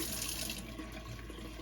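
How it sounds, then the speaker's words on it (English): Running water from a hot water tap hisses steadily, then cuts off abruptly about halfway through, leaving a low, steady hum. "I will turn the hot water off now."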